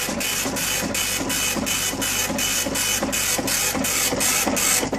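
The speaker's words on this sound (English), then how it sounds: "Okay, there it goes, printing." A printer hooked to an Apple IIc computer runs in a fast, regular rhythm of bright mechanical bursts, about two per second, loud and close with no voices.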